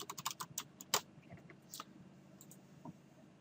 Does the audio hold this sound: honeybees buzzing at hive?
no